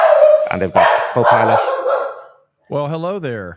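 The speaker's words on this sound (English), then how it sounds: "she's always ready to bark" A dog barks and yips a few times in quick bursts close by, mixed in with a person talking, then goes quiet briefly before another short run of barking.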